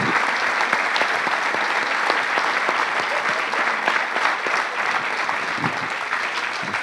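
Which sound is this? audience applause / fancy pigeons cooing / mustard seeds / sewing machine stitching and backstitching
audience applause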